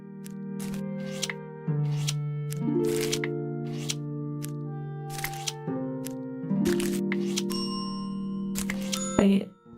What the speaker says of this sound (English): There was like a bell.